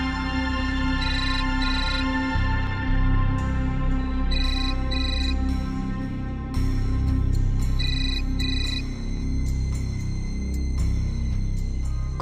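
A phone ringtone in a Marathi TV serial scene rings repeatedly in bursts of a bright electronic melody over a steady low background hum.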